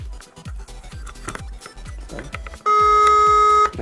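A telephone rings out while calling a pizza place to order, its loud sustained electronic ring tone arriving after a run of regular low thumping beats, with no voices over it.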